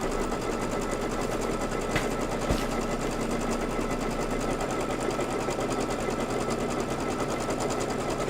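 Embroidery machine stitching a batting placement line for a quilted table topper, a fast steady mechanical whir with rapid needle chatter, close and continuous throughout with no talking.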